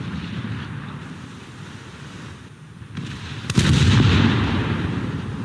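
Secondary naval guns on the cruiser Leipzig fire in War Thunder. A low, rumbling boom bursts in midway and hangs over wind and sea-like noise, with an earlier softer thump before it.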